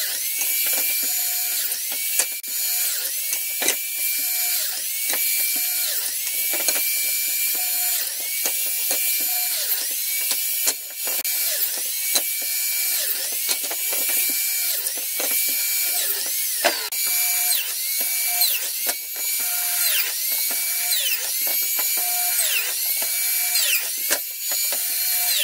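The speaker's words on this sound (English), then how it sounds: "let me get these biscuit joints done" Biscuit jointer cutting biscuit joints in wood for a built-in wardrobe, a run of repeated short whining cuts with the motor spinning up and down in quick succession, loud and close.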